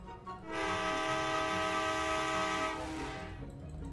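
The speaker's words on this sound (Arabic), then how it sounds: "استنى نجرب لو صوت قطر يبقى هو قطر فعلا هندي" Indian passenger train in a GTA-style video game sounds a loud, sustained horn for about two seconds over a low rumbling engine and track noise, then the blast fades while the rumble continues.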